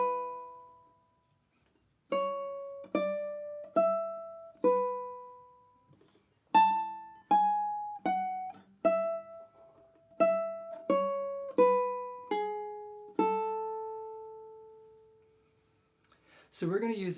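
A melody from Lagrima picked on a ukulele's high string, single plucked notes ascending with steady spacing, each ringing and decaying, played alone and close with a brief noise at the end.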